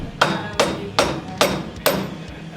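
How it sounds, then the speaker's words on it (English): A rubber hammer strikes a motorcycle front axle during fork shroud installation, five solid thuds at an even, moderately quick pace, close up with no talking. "I got my trusty rubber hammer."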